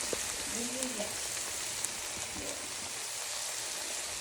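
Garlic sizzles in a hot pan for a chicken and shrimp stir fry, a steady hiss like light rain with faint crackles, close and continuous, with a brief voice-like sound near the start.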